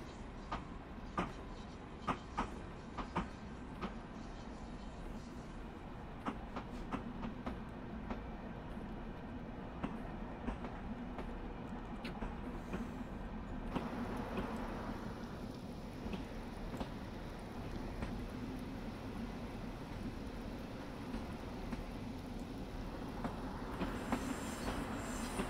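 A Long Island Railroad train rolls along the tracks with steady rumbling and scattered clicking wheel noise, continuous and fairly close for the whole stretch, with no voices.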